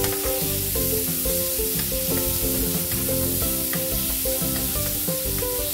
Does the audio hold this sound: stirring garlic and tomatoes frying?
yes